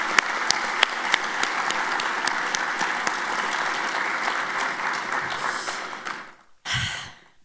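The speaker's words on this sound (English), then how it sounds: "one more round of applause" An audience at the INFORMS 2026 Franz Edelman Gala claps steadily and loudly for several seconds, a dense patter with a few sharper claps, then it stops abruptly and a brief breathy sound follows.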